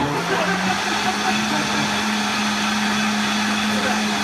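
A kitchen blender runs steadily, blending a green drink, with a continuous loud whirring drone that holds through the whole stretch. A voice talks faintly under it.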